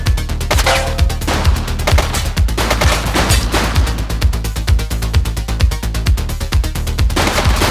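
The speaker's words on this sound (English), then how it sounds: "Shots fired!" Rapid sustained gunfire in the police video game The Precinct, a dense automatic stream of sharp shots hammering on without pause for several seconds, loud and close.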